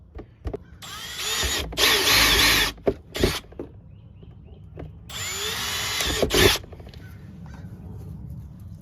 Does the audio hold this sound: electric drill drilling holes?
yes